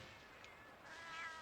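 A cartoonish cat meow from the video game Monster Hunter Generations Ultimate, a single short, quiet call heard alone.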